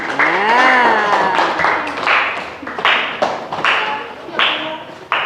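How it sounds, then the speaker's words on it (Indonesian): In an elementary school classroom, pupils clap for a group of classmates in short rhythmic bursts while their voices chant along loudly and close by. "Ya, tepuk tangan."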